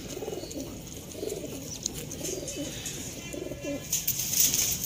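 Pigeons cooing at a breeding loft: repeated low, rolling coos in a steady rhythm, fairly close, over a busy background with faint higher chirps.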